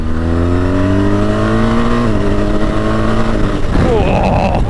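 A BMW R1250GS TE Triple Black motorcycle with a 138-horsepower engine pulls hard under acceleration, its loud exhaust note rising steadily through the gears with a shift partway through, recorded close and continuous.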